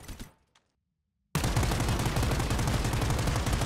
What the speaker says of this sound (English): Michelle Lee, classified as a Sentinel-class operative, wields an assault rifle affectionately named the Inspector as her primary weapon